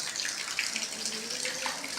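Water gushing steadily from a newly installed water pump's supply line, a continuous splashing flow at moderate loudness and close range, with no talking.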